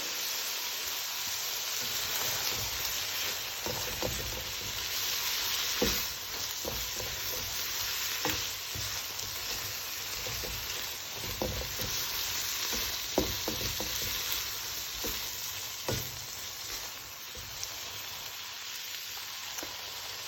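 Seafood and vegetables stir-frying in a hot wok, a dense continuous sizzle and hiss with scattered scrapes and taps of a utensil tossing the food, close and steady throughout.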